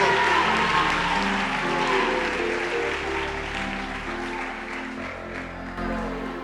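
A church congregation claps steadily in sustained applause, a dense wash of many hands filling a large room at fairly loud level, with faint voices mixed in.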